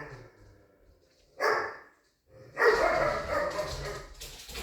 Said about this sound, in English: Please excuse the dogs playing.